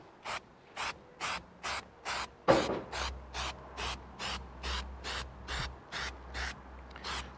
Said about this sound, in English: I'm going to get straight in and use this contact adhesive